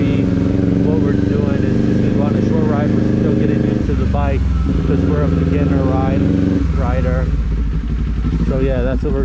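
A motorcycle engine hums steadily and loudly throughout a short beginner ride, with a person talking over it the whole time.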